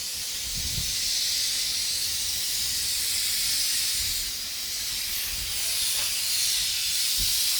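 Spray polyurethane foam insulation being applied to a house, a steady loud hiss from the spray gun going without a break, with a few faint low thumps underneath and no talking.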